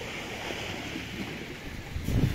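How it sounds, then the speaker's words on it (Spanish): Small ocean waves breaking on a beach while surfcasting, heard as a steady, broad wash of surf with some wind noise on the microphone and a slightly louder surge at the end. "Mírate tú las olillas que hay, que se está rizando un poquillo."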